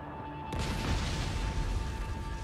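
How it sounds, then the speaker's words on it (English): A rocket launcher fires at security cameras in a video game, a sudden heavy boom that swells into a sustained loud rumbling blast with no talk over it. "I am using rocket launchers on cameras because these cameras are so annoying"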